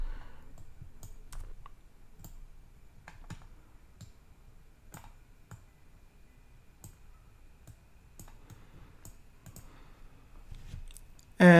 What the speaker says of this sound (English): let's type in David runs his own business